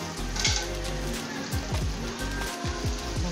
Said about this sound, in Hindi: सबसे पहले मैंने भिंडी को फ्राई किया है